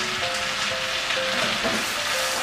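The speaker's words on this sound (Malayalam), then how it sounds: "അപ്പോൾ ഈ ഇഞ്ചി വെളുത്തുള്ളി പേസ്റ്റ് ഈ ബട്ടറിൽ കിടന്ന് അതിൻ്റെ പച്ചമണമൊന്ന് മാറുന്നത് വരെ ഒന്ന് കഴിച്ചിടും" Ginger garlic paste sizzles and fries in melted butter in a pan for butter chicken, a steady close crackle with faint stirring and no talk.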